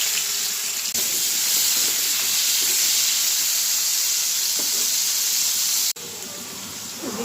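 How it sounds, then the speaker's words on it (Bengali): Potatoes for a meat curry fry in an overheated karahi, giving a loud, continuous hiss and sizzle with a brief dip near the end. "এদিক দিয়ে আমি যে মাংসের আলুগুলো একটু ভেজে নেব"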